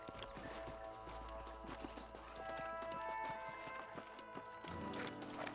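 Horses' hooves clip-clop in a steady trot in Red Dead Redemption, close and clear over layered game music and ambience, with brief talk nearby.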